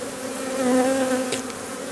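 Honey bees buzz steadily in an open hive, a close, continuous drone that swells slightly mid-way before easing back, with no voices.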